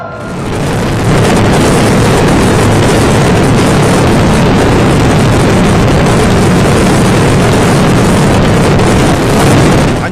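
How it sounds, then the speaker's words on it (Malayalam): Paramekkavu temple sample fireworks display at the Thrissur Pooram festival, a dense, continuous roar of bursting shells and booms filling the air, loud and sustained throughout with no pauses. "ഇരുപത് മിനിറ്റിന് ശേഷം പാറമേക്കാവിന്റെ സാമ്പിൾ വെടിക്കെട്ട് തുടങ്ങി"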